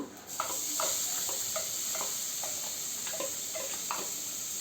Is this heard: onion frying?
yes